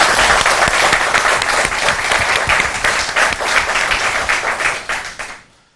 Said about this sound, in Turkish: onlara da şöyle büyük bir alkış alalım lütfen